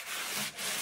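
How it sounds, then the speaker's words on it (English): Salt being rubbed around the inside of a cast iron pan: a steady, gritty scouring rasp close by, briefly dipping midway before resuming. "Rub it all around."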